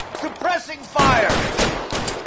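Dense rapid gunfire in the crime game LA Noire, a quick volley of shots under a voice shouting in the first second, then sustained bursts.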